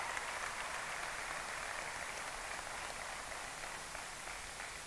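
A large audience applauds at the OnePlus 6 phone launch event, a steady wash of clapping that stays even throughout and sounds moderately distant, with no voices.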